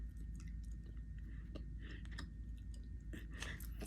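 Gum being chewed close to the mouth, soft repeated wet clicks and smacks in an uneven rhythm over a quiet low room hum.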